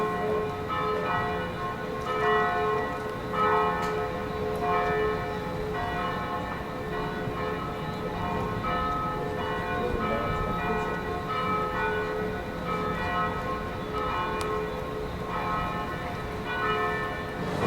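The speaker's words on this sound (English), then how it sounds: "they then had all the church bells ringing, and they continued to ring for about 5 minutes" Church bells peal continuously in Fort-de-France, Martinique, ringing in a steady, overlapping rhythm from a moderate distance with no talking.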